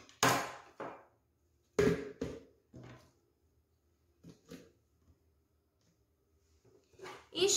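A knife chops through a very large onion on a cutting board, with several sharp, separate knocks landing in irregular bursts and quieter gaps between them, close and fairly loud.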